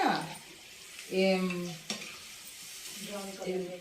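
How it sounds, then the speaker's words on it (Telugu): Gooseberry pickle ingredients fry on low heat while being stirred, producing a gentle sizzle broken by recurring scraping strokes of a utensil against the pan. "ఇలాగా సిమ్లో పెట్టుకొని వేయించుకోవాలి."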